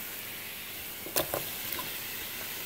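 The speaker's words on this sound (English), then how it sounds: "Just put a little oil so that it can fry the vegetables." Vegetables for chicken fajitas fry in a little oil with a soft, steady sizzle, broken by a couple of quick clinks from stirring in the pan.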